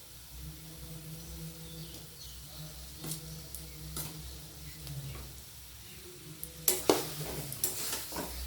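Potatoes tipped into a pan of fried spices for a soybean dopiyaza sizzle faintly as a utensil stirs, with a sudden clatter and louder scraping toward the end; no talking.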